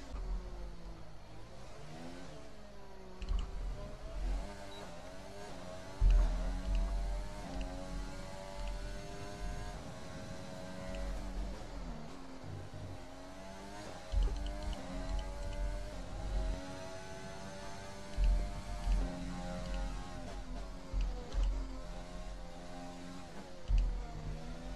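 A Formula 1 car engine in the F1 2020 racing game at Monaco, revving high and shifting through gears in repeated rising and falling sweeps, with sharp downshifts, sustained throughout.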